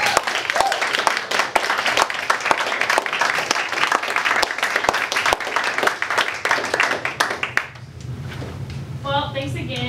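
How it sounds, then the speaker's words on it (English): A small group gives a round of applause at the end of a Skype interview, dense steady clapping close by for several seconds that fades out, followed by faint speech. "So if we could have a round of applause."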